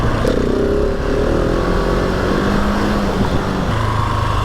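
A 2020 Husqvarna 701 SM single-cylinder motorcycle revving hard in second gear during a wheelie, a loud steady engine drone rising in pitch, with heavy wind rush throughout.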